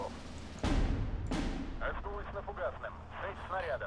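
Artillery and gunfire from the WWII strategy game Steel Division 2 with Burning Baltics content: two heavy booming blasts in quick succession, followed by sharper crackling shots and whistling tones, while someone talks over the battle.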